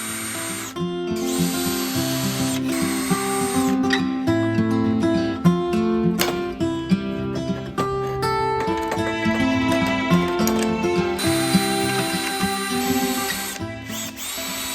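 A power drill bores out spot welds on the rusty bodywork of a Mk2 Golf, running in repeated whining bursts that rise and dip in pitch as the bit bites into sheet metal, loud and close with brief pauses.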